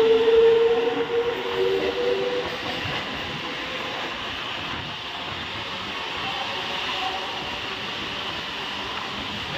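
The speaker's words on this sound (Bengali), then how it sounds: "নন্দাই গাজন স্টেশন ঢুকছে দেখো" A local train on the Howrah to Midnapore line runs steadily with a broad, constant rumble and rattle, slightly louder at the start with a brief tonal squeal early on.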